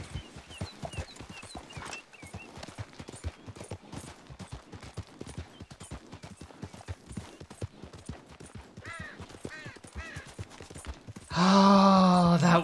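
Horse hooves from the video game Red Dead Redemption 2 clip-clop in a steady, close rhythm under game music and effects, ending in a sudden loud burst of noise.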